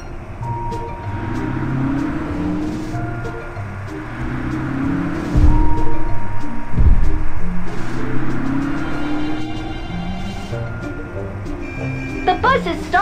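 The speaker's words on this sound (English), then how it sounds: "The bus is stopping." Cartoon city bus in a children's driving game rolling along and braking to a stop, a continuous engine drone with a couple of heavier thumps over game music and effects.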